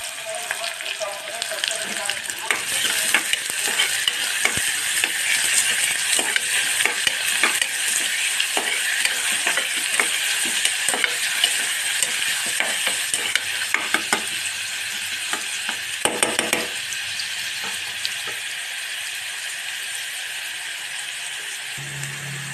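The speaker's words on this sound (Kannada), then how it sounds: "ಇಲ್ಲಿ ನೋಡ್ರಿ, ಈರುಳ್ಳಿ ಚೆನ್ನಾಗಿ 2-3 ನಿಮಿಷ ಈ ರೀತಿ ಫ್ರೈ ಮಾಡ್ಕೊರಿ" Onions fry in a pan for several minutes, a loud continuous sizzle near the mic with frequent stirring scrapes and clinks running through it.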